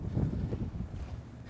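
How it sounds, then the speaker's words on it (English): Strong outdoor wind buffets the microphone in steady low rumbling gusts during a car wash, with no voices, loud and continuous throughout. "It's a very windy day."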